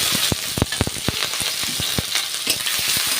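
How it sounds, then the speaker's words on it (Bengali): Nigella seeds, onion, crushed garlic and green chilli fry in hot oil for Bengali red spinach paste, a close sizzle broken by sharp irregular pops and spatters. "এই তেলে আমি কালো জিরে ফোড়ন দিয়ে দেবো, কালো জিরে দেব, পেঁয়াজ দেবো, রসুন থেতো করা রসুন দেবো, আর কাঁচা লঙ্কাটা দিয়ে দেবো"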